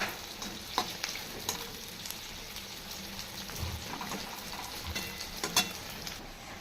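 Drumstick-flower fritters sizzling and crackling in hot oil, a continuous bubbling hiss with scattered pops, close by and fairly quiet, no voices.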